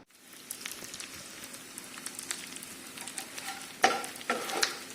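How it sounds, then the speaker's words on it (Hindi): Dry fruits roasting slowly in a pan, a soft, patchy crackle and light sizzle with scattered clicks and a couple of louder stirring scrapes near the end. "ये मैं धीरे धीरे ये सारे ड्राई फ्रूट्स भून रही हूँ"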